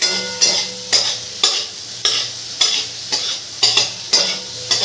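Onions dropped into hot oil with chillies for a soybean curry, frying with a bright sizzle while a spoon stirs in a regular rhythm, about nine scraping strokes, close and loud.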